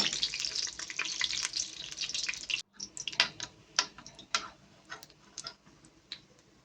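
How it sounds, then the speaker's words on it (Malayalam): Vettu cake dough fries in hot oil, a dense close sizzle that cuts off abruptly and then gives way to scattered crackles and pops at a lower level. "ഇത് ഫ്രൈ ചെയ്ത് വരുമ്പോഴേക്ക് അതിൻ്റെ സൈസ് കുറച്ച് വലുതാണ് പൊങ്ങി വരും"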